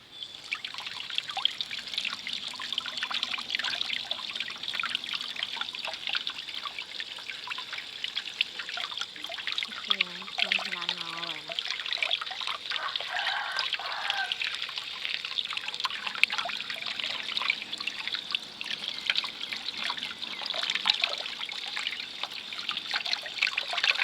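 Water runs and trickles steadily while seeds are rinsed by hand, a faint continuous splashing stream with occasional drips and a brief soft clatter midway.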